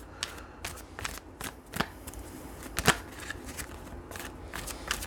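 Tarot cards are shuffled by hand in short riffling bursts and soft slaps, irregular and close, with quiet pauses between the shuffles.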